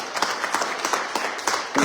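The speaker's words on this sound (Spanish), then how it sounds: "Denle un aplauso al Señor," Congregation applauding during a Sunday church service, a steady patter of many hands clapping at moderate distance with irregular bursts, no speech over it.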